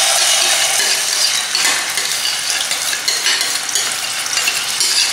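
Milk cream being stirred into a vegetable curry of field bean seeds in a pan, a continuous soft sizzling hiss with scraping stirring strokes, close and steady, no speech.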